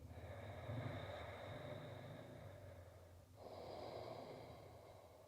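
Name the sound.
Ujjayi breathing through the nose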